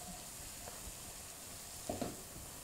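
Minced keema cooking with masala over a slow flame, giving a soft, steady sizzle and hiss, quiet and continuous, with a couple of faint stirring clatters near the end.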